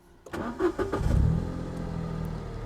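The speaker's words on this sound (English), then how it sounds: "Now I can start the engine to check if there are any warning lights." Toyota Aygo 1.0 engine cranking and catching after mass air flow sensor cleaning, a few quick starter pulses followed by a brief rev that settles into a smooth, steady idle, heard close with no voices.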